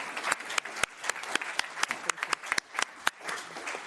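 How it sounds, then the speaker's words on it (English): A conference audience at a European industry and trade event claps for the speakers. The applause is thin and scattered, with individual sharp claps standing out over a soft, continuous patter, fairly quiet and moderately distant. "So a big round of applause for our speakers."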